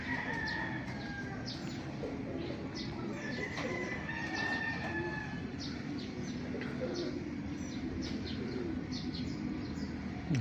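Pet tippler pigeons coo softly in a morning loft setting, their low repeated murmurs blending with chirps from other birds over steady outdoor background noise with no talk.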